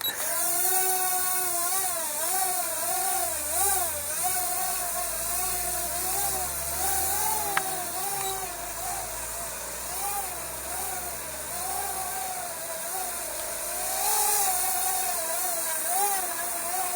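A Barbie toy drone lifts off and hovers, giving a steady high-pitched motor whine with wavering pitch that runs continuously at moderate volume throughout.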